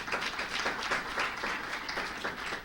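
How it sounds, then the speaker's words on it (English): An audience claps in applause at a gaming and animation panel event, a short, even burst of many hands with steady rhythm throughout. "Can I ask you to just give a round of applause?"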